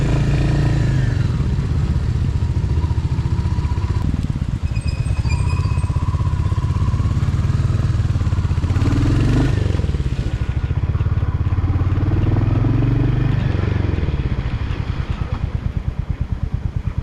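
A motorcycle on a training course runs loud and close, its engine note rising under acceleration and dropping as the rider rolls off and brakes, a continuous throaty drone.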